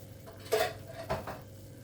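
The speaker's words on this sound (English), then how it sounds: "Let's mix this bad boy up and put it back on the heat." A spoon scrapes and clanks through spaghetti bolognaise sauce in a pan, two distinct stirring strokes that are close and moderately loud over a quiet background.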